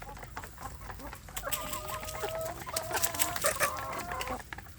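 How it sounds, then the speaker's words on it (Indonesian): Free-range village chicks cluck and peep in a steady, close chatter that rises toward the middle and carries on with no talk over it. "Di antara mereka itu anak ayam kampung saya banyak yang sudah kenyang"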